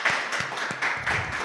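Brief applause from an audience at a start-up talk event, scattered claps mixed with a hum of crowd noise, close and moderately loud.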